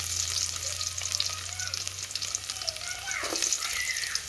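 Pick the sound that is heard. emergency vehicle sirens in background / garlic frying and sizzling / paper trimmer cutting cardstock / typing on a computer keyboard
garlic frying and sizzling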